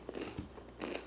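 Crispy takeout food, carried in paper packaging, is bitten and chewed up close, giving a few quiet crunchy crackles in quick succession.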